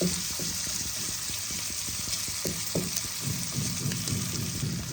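Onions frying in a pan give a steady, close sizzle with a dense crackling hiss throughout, alone without any voice.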